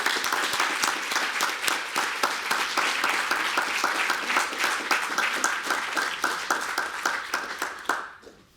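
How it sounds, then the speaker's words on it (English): Conference audience at a fall wrist surgery forum breaks into sustained, dense applause, a steady roll of many hands clapping that holds for about eight seconds before fading out. "I would like a great applause from the room here, thanking you for your contribution to our society"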